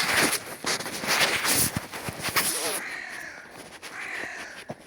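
Crows cawing outdoors in snow, several harsh caws repeating over a few seconds, moderately close, with faint crunching footsteps and occasional light talk in the background.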